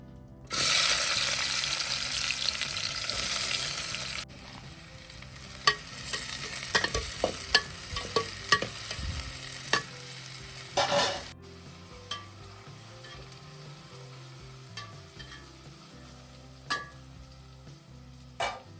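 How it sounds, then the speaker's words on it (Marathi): Chicken tempering in a pan opens with a loud burst of sizzling, then settles into spoon-scraping stirs and clatter over quieter frying, close by with no voices. "मी चिकनच्या फोडण्याची तयारी केली"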